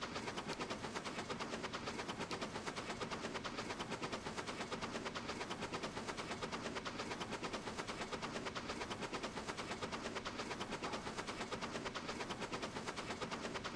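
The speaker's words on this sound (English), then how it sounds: "This is what happens when you turn a steam locomotive up to 11." A steam locomotive runs at top speed in the railway game Transport Fever 2, a dense, rapid, unbroken mechanical chuffing that holds loud and steady throughout, with no voices.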